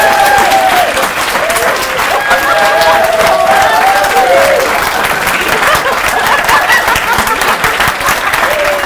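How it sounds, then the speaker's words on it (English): Wedding guests at a ceremony applaud the newly married couple, a dense, loud, continuous round of clapping with cheering and voices woven through it. "Give them a round of applause."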